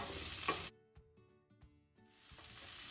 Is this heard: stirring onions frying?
yes